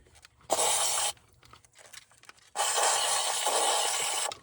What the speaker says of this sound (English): Let's give her another spray here